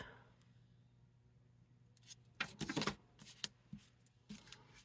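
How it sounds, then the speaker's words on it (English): Scissors cutting a small paper piece out of a card-making kit, heard as a cluster of crisp, close snips and paper rustles that starts after a quiet pause, with no talking. "I'll cut that out."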